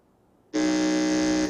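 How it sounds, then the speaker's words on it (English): A quiz contest buzzer pressed at a school qualifier, giving one loud, steady electronic buzz that starts abruptly after a short quiet and holds for about a second before cutting off. "Can I hear your buzzer?"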